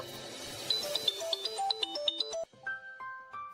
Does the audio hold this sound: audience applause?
no